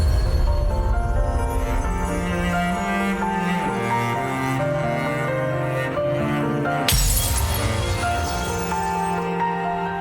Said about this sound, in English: it more or less kind of does another glass shattering